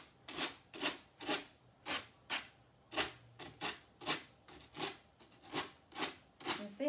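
Rhythmic rasping strokes of a sanding block on a wooden vanity, back and forth about twice a second, close and alone.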